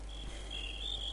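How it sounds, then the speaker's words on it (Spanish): Crickets chirp steadily in a Minecraft game world, a continuous high, shimmering trill that grows slightly brighter toward the end, heard alone with no talking. "Aquí hay una infestación de grillos"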